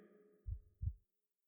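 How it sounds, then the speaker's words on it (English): Two deep, muffled thumps of a heartbeat sound in quick succession against a faint fading hum, set in a dark underwater scene, then quiet. "Your heartbeat is so loud in these dark waters."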